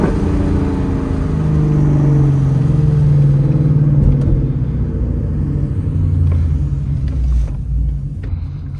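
A 2018 Ford Mustang GT 5.0 V8 downshifting: a loud, deep engine rumble that swells and then eases, with brief revs blipping up in pitch during the gear changes.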